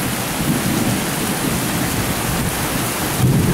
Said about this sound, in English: But it is pouring out here.